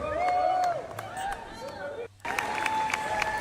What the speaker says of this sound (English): Keep the applause going, everybody!